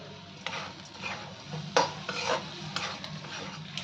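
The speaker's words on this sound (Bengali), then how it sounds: "যাতে পুড়ে না যায় মশলাটা, সেই জন্য একটুখানি নেড়ে নিলাম" Onion and spice masala being stirred in a pan, soft scraping strokes of a utensil over a faint sizzle, a few sharper clinks against the metal, close and with no voices.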